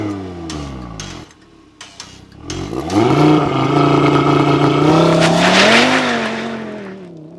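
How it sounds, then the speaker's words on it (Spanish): An Audi TT RS 8S with a real exhaust and an exhaust valve is started and revved, a short burst of blips followed by a loud, sustained rev that rises and holds before falling back, heard close up with no talk. "Los escapes, que son de verdad, y está ahí con su válvula de escape, que vais a escuchad cómo suena."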